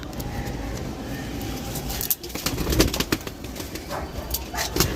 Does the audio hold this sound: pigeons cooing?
yes